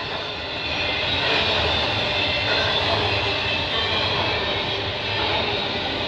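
A CN freight train rumbling past at moderate distance on a snowy night in Burlington, a sustained broad roar that swells and holds steady for several seconds with no talking.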